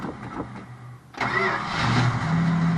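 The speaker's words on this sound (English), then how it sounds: "And fired right up, right on." A 1962 Plymouth Belvedere engine cranks briefly on a replacement starter, then fires and settles into a steady rough idle, loud and close with no voices.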